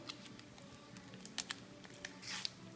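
A large Hershey chocolate bar being unwrapped at close range: short papery rustles and crinkly taps in quick bursts, then a longer crinkling swish near the end, with no speech.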